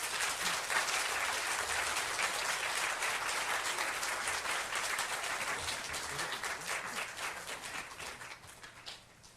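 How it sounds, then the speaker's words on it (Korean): A church congregation at a Friday prayer meeting applauds a guest speaker from America with dense, loud sustained applause that holds steady and then tapers off near the end, with no talk over it. "더 큰 박수로 우리 모시겠습니다."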